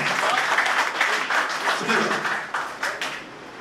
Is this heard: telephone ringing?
no